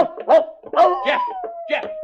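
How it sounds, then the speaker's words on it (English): A dog barks and yips in short bursts mixed with whining, howl-like tones, sounding close and fairly loud over several seconds. "Jeff, you fool dog, come back here."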